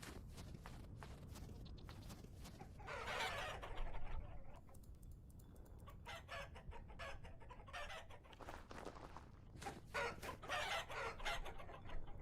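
Chickens cluck repeatedly in the survival game Vintage Story, with occasional footsteps mixed in, a moderately loud, busy farmyard clamor with no talking.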